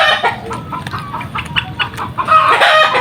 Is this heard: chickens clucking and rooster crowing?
yes